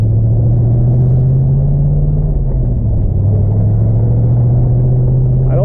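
A Camaro IROC-Z on an autocross run gives a loud, steady engine drone and rumble from inside the car, with the pitch holding, dipping slightly midway, then settling.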